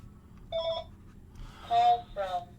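An electronic telephone ring tone in a quiet room, with two short bursts of warbling tones, the second pair stronger, over a low background hum.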